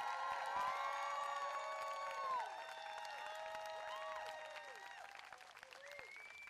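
Crowd of activists at an outdoor rally against a Supreme Court nomination claps and cheers, with whoops and shouts rising over sustained applause that slowly thins toward the end.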